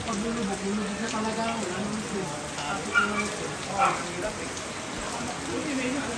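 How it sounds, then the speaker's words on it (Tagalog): Heavy rain from Typhoon Carina pours steadily over Metro Manila, heard from a house's second floor as a dense, even patter on surfaces with someone speaking over it. "Lord God, please stop the typhoon. Stop the rain."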